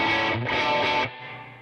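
Electric guitar driven through a KTR overdrive pedal, giving a thick, distorted chord that rings loudly for about a second before dropping to a softer sustained tail, with no voices.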